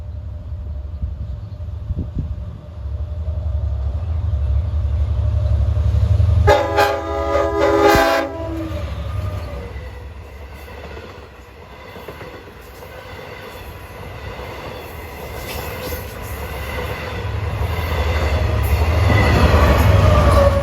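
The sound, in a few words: LIRR Montauk Branch train passing and blowing its horn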